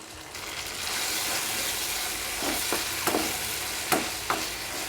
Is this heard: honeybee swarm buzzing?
no